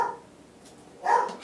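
A dog indoors in a home kitchen gives two short, faint barks about a second apart, with no speech over them.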